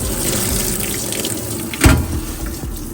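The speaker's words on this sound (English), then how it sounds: "So we're pretty much just washing the cloth before we go put it up there." Water runs steadily from a tap as a cloth is washed in a sink, giving a constant close splashing flow with one brief louder slosh near the middle.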